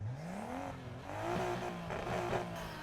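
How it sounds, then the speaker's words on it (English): A 1993 Nissan Skyline GT-R R32 V-Spec engine in the video game Need for Speed Heat revs up through rising, gear-shifting pitches, a racing-style exhaust note that climbs, drops, and climbs again. "we can have a look how this car sounds at the moment"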